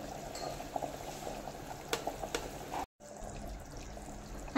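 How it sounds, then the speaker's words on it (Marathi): Kolhapuri tambda rassa, a spicy red mutton curry, simmering in a pot, a soft continuous bubbling with occasional small pops, faint and close. "आता इथे मी तांबडा रस्सा 5 ते 6 मिनिटं छान असा उकळवून घेणार आहे।"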